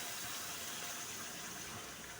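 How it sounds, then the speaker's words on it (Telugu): Water poured steadily into a pan of semolina and jaggery for a sweet dessert, a continuous gushing, splashing pour heard up close with no talk. "నేను నీళ్లు పోస్తున్నాను, పాలు పోస్తే మరీ బాగుంటుంది"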